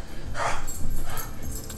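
A dog barks amid a muffled, noisy background during a Duelyst game session, with one or two short barks standing out only moderately and no talk.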